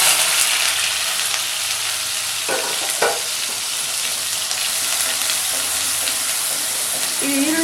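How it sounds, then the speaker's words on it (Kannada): Onion paste fries in a pan with a continuous bright sizzle, broken by a couple of sharp scrapes from stirring and a faint voice in the background. "ಈ ಈರುಳ್ಳಿ ಚೆನ್ನಾಗಿ ಸ್ಮೆಲ್ ಹೋಗೋವರೆಗೂ ಇದನ್ನು ಹುರ್ಕೊಳ್ಳೋಣ."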